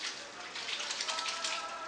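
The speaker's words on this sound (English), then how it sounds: "I'm gonna wash my hands because I've been touching the camera" Running water streams steadily from a tap as hands are washed indoors, a soft, even splashing hiss lasting two seconds.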